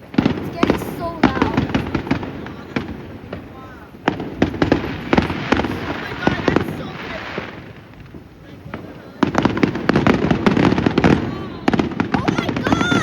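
Fireworks burst in a dense, loud barrage of cracks and booms that lulls briefly midway, while people talk and exclaim throughout.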